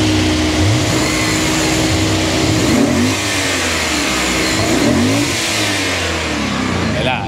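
A 400 hp V8 in a BMW M5 E39 revs hard and close, its steady roar rising and falling in repeated pulls throughout, with no talking over it.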